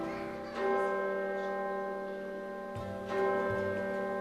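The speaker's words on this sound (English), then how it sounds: "St. Martin's is illuminated at night and not at all shy about ringing its bells" The church bells of St. Martin's in Colmar, France ring in the evening, giving two resonant strikes a few seconds apart whose long humming tones linger and fade, heard from a distance.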